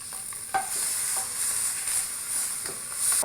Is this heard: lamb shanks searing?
yes